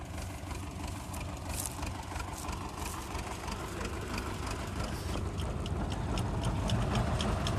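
Crop sprayer for winter crops running with its pump stirring a potassium humate solution in the tank, a steady low engine-like drone with faint ratcheting clicks, continuous throughout.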